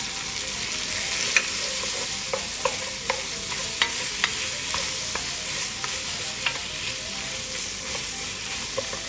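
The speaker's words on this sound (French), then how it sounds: "Je mets ma purée de tomates, environ 2 bonnes cuillères à soupe." About two tablespoons of tomato puree sizzle in a hot pan for a braised lamb shoulder. A steady frying hiss runs throughout, broken by frequent soft scraping ticks of stirring, with no voices.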